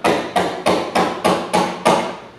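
A spring action tool strikes a wooden workpiece to distress it, giving eight sharp, evenly spaced taps in quick succession, close and fairly loud.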